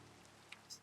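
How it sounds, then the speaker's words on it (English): Light rain patters steadily in a video game, a soft, quiet wash of drops with a couple of brief sharper ticks near the end and no voices. "Is this a thunderstorm? Because I would really like to sleep through this rain."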